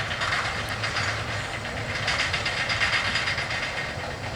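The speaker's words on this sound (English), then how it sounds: "a Wheeling and Lake Erie manifest train, mostly tankers, and it might have been an oil train of some sort" A Wheeling and Lake Erie manifest freight made up mostly of tank cars rolls steadily past close by, a continuous loud rumble with wheel clatter and hiss and no talking.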